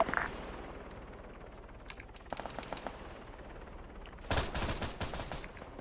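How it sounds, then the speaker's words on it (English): Machine gun fire in the Arma 3 combat game, with a sparse crackle of distant shots through the middle and a louder, sustained burst of automatic fire near the end. "they're firing MGs up at"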